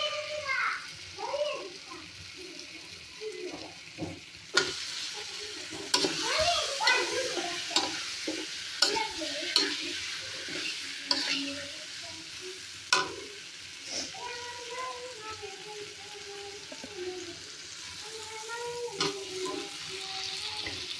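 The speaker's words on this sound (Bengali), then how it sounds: "তো আমি এখন মাংসগুলো দিয়ে দিতেছি।" Meat being stirred and fried in a pan in a village kitchen: soft continuous sizzling with repeated sharp spatula scrapes and knocks, while someone talks and children chatter in the background.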